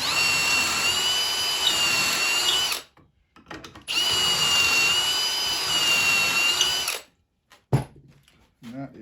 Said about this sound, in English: this is going to drill a smaller diameter that will capture the shank of the screw